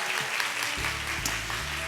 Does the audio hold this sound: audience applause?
yes